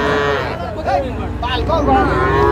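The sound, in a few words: cattle mooing, calf at a Bangladeshi cattle market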